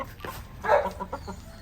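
Farmyard chickens and roosters cluck nearby in a short burst, with a louder squawk in the middle and softer clucks around it.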